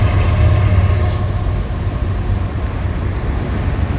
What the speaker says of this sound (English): Oh, we got a train.